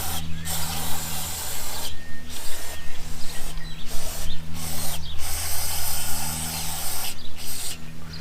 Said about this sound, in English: I'm just spraying down the carb.